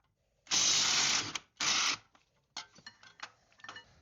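An air impact wrench or power tool spins a nut off a control arm bolt on a BMW E36/E46 rear suspension in two loud, close bursts. Lighter metallic clicks and rattles follow as the tool settles.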